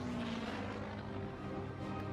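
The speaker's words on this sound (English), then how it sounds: "an Avenger drops out of the sky" An Avenger aircraft dives out of the sky, giving a loud, steady engine roar with a sustained droning tone that holds across the whole short stretch.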